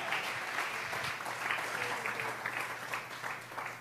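A church congregation claps together in steady, dense applause that fills the room, a continuous patter of many hands with no voices over it.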